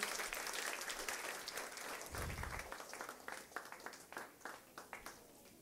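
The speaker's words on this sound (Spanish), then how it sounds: "Dale un fuerte aplauso al Rey." A church congregation gives a loud round of applause during a worship service, dense clapping that thins into scattered individual claps toward the end.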